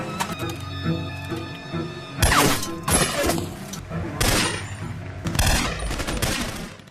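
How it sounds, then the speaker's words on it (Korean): Rapid gunfire from soldiers in a dark film scene, loud bursts of shots and crashing impacts coming in clustered volleys over a low rumbling score, with no talk. "칠흑 같은 어둠 속에서 부대원들은 마치 귀신에 홀린 듯 서로에게 총을 쏘기 시작합니다"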